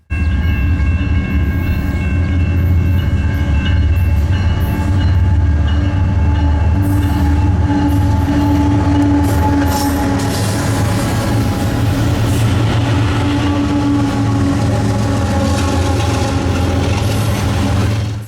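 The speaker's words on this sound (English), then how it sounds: "the train was a westbound manifest, with a fake bonnet trailing second" A westbound freight manifest train rumbles past loudly in Galesburg, Illinois, its wheels and cars grinding steadily close by with no talking.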